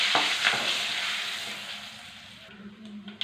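Dried red chillies, cumin, curry leaves and turmeric fry in hot oil for a brinjal and tomato curry. A soft, steady hiss runs under a few scraping stirs of a spoon, close and fairly quiet.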